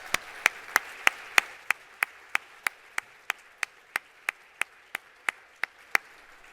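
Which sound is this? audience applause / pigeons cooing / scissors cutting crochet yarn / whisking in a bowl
audience applause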